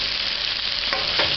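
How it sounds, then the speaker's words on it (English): Noodle chicken fry being stirred in a hot pan, with a steady broadband sizzle throughout and a few louder scrapes of the utensil toward the end, close and loud with no voices. "stir this in and turn the stove off"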